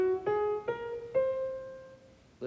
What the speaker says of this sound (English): then we get Debussy's whole tone scale, which sounds like this.